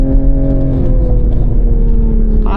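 Rear-wheel-drive Toyota GR Supra, 2023-2026 model, heard from inside the cabin on the move: a loud, steady low engine drone with a constant whir throughout.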